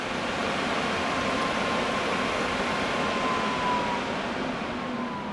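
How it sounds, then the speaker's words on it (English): Cooling fans in an Acer Predator Orion 7000 gaming desktop PC spin up, making a steady, even whoosh of airflow with a faint tonal whine, constant and fairly quiet throughout with no voices. "those fans are going to ramp up."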